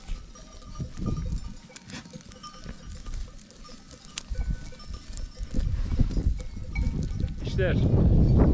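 Goats wearing cowbells on a high mountain pasture, bells clanking irregularly near and far with occasional bleats, while wind and people talking are heard throughout.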